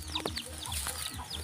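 Chickens, some of them sick, cluck steadily on a small backyard farm, several birds overlapping in quick, close calls with no talk over them.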